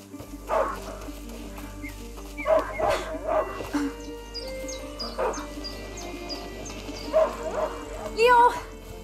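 A hunting dog barks and yips in a medieval countryside scene from A Plague Tale: Innocence, with several scattered bursts over steady ambient background and occasional voices.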